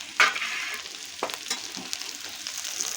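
Okra frying in oil in a pan for an egg bhurji, with a steady soft sizzle and a few scraping stirs of a spatula, close and alone with no voices.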